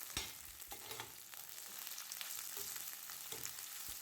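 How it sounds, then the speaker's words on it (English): Onions frying in a little oil in a pan, a steady broadband sizzle with occasional brief crackles and spatters, close and continuous with no talk. "just add a little oil, then fry onions"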